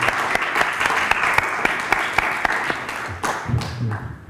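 Audience applause at a conference talk about an educational radio project run from a prison: a steady wash of clapping from many hands, fairly close, carrying on for several seconds and thinning toward the end, with a few low voices underneath.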